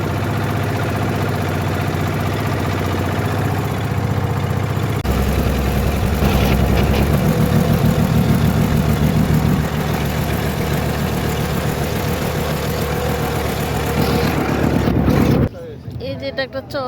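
A large wooden river boat at Mawa ghat runs its engine with a loud, steady low drone that holds throughout and cuts off abruptly near the end, with voices faintly underneath.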